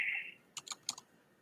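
Typing on a computer keyboard produces a few close, quiet key clicks in a short uneven cluster after a brief tone, with no talk.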